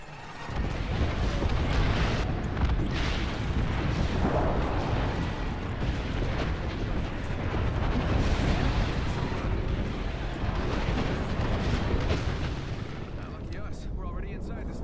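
Airstrike explosions in the Apex Legends battle game pound continuously, with loud, overlapping booms and blasts rolling together into a sustained barrage that eases slightly near the end.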